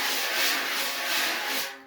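Wire drum brushes sweep in big, continuous circles across a snare drum head, giving a steady, close swishing wash that swells and eases in gentle waves, heard alone.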